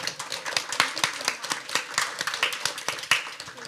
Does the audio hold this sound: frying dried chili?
no